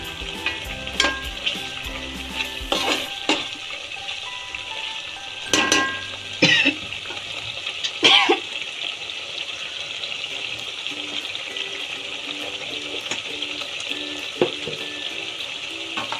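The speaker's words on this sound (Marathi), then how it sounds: "थोडंसं परतून घ्यायचं" Bitter gourd with tamarind sizzles steadily in a hot pan, with occasional scraping and stirring clatters of a utensil throughout; no talking.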